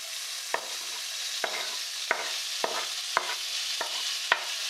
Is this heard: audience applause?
no